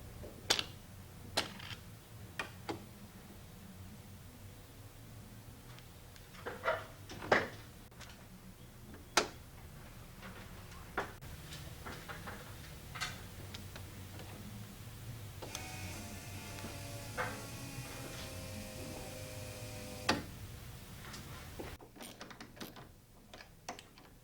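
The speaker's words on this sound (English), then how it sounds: "and reinstall the switches to the bracket." Inertia switches are refitted to a bracket during construction of a Rotorway Exec 162F helicopter, giving scattered sharp clicks and taps of small metal parts and tools at irregular intervals, close by, with a brief buzzing whir partway through.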